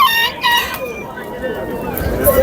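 Poultry calls at a bird market in Namangan, where guinea fowl are sold, come as harsh repeated cries and clucks close by, with market chatter and other fowl in the background.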